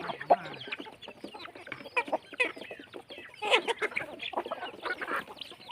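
Chickens on a farm cluck and chatter close by in overlapping bursts, with several birds calling at once and a busier flurry midway.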